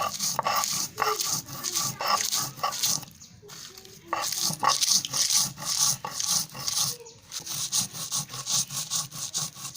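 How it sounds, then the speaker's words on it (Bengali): Fried dried red chillies are ground coarsely on a grinding stone, making rough, rhythmic rasping strokes that repeat steadily and close, with brief pauses between passes. "এখন ভেজে রাখা শুকনো লঙ্কাগুলো বেটে নেব। আমরা লঙ্কাগুলো আধো আধো করে বেটে নেব।"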